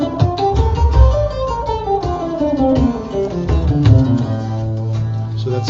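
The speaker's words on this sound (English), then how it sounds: "So here's the scale, A Phrygian." An electric guitar runs the A Phrygian scale up and down over a backing jam track, single notes climbing and descending in a smooth melodic line, clear and prominent.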